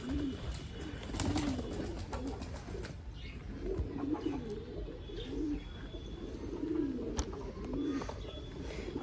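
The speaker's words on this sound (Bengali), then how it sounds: "দেখুন সব পায়রা বার হয়ে গেছে।" Flock of pigeons released outdoors from their loft, cooing in repeated soft rolling phrases at moderate distance, with occasional chirps and a brief flutter of wings over steady ambient noise.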